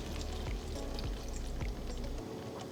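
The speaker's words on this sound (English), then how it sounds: "Next, we'll pour the water over the meat mixture," Water poured over a turkey meat and cauliflower mixture in a pan, a quiet continuous splashing pour with a few soft drips that stops just before the end.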